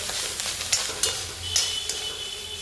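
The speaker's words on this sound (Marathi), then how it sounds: "तर 1-2 मिनटं असंच परतून घेणार आहे आपण, अद्रक थोडंसं परतेपर्यंत" Cut ginger sautés in a pan over a high flame, making a soft hiss with a few sharp scrapes and taps of a spoon against the metal.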